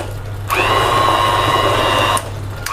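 A mixer grinder blending pav bhaji mixture into a fine paste: the motor starts abruptly, holds a steady, close, high whine for nearly two seconds, then cuts off, with no voices.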